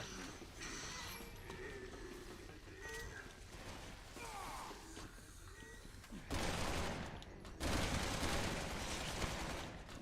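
Gunfire from the Resident Evil 6 video game, heavy broadband bursts of shots crowding in mid-clip and growing louder toward the end over a busy game soundscape, with no talk.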